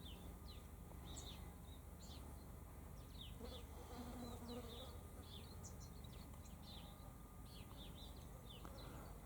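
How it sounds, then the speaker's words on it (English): A small bee hums faintly while gathering pollen from a pigface flower outdoors, the thin buzz steady under a busy backdrop of chirping birds. "A little bee getting pollen from a pigface."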